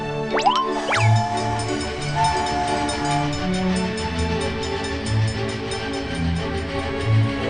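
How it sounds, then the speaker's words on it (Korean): A train departing as a sound effect, with a pair of sharp whistle toots at the start over a steady rumbling, clattering run of the train that continues throughout. "호기심 열차 출발!"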